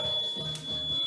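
A workout interval timer in a cardio and abs fitness class gives a steady, high electronic beep that holds for about a second over low background sound.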